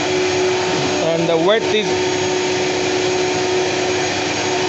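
CNC machines running in a workshop, one of them a 5-metre-table machine, give a steady mechanical hum and whine throughout, with someone talking briefly over it near the start.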